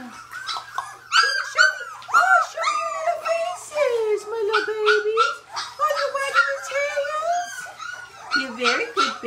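A litter of Labrador–Australian Shepherd mix puppies whimpers and cries nonstop, overlapping high wails and yelps rising and falling, loud and close for the whole stretch.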